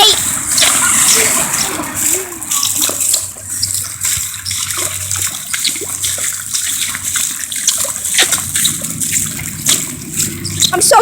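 Heavy rain splashes and sprays around people walking outdoors in a downpour, a loud continuous hiss of falling and spattering water with rumbling traffic, close to the microphone.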